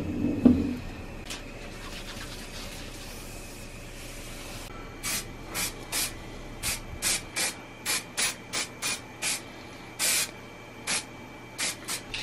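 Spray can of adhesive misting glue for a DIY planar tweeter membrane, a string of short sharp hissing spray bursts in quick irregular succession after a quieter start.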